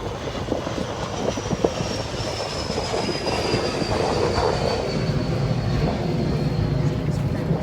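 A steady, loud roar of a jet engine with a faint high whine across it, continuous throughout, with voices talking underneath, beside the Gordon River in Naples, Florida.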